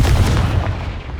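Confringo spell explosion in a Hogwarts video game, a loud booming blast that hits at once and rumbles away over about a second.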